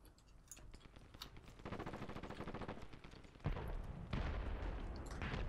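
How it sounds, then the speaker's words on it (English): Rapid gunfire and airstrike blasts in the shooter game Dirty Bomb rattle continuously, with bursts of automatic shots building into denser, louder explosive rumble partway through. "Throwing airstrikes inside, what is the point?"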